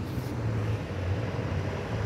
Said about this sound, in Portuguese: É muito veículos, é muito ônibus que sai aqui do Terminal Pimentas